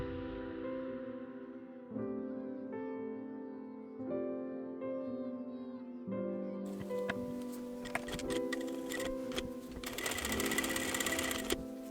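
A sewing machine runs steadily while stitching the brim seam of a paneled bucket hat, a continuous near whir with a few brief pauses and speed changes and no talk.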